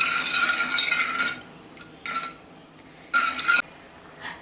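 Spinach puree with kandasari sugar boiling in a hot kadai, heard as three separate bursts of hissing, spluttering bubbles with quiet gaps between them.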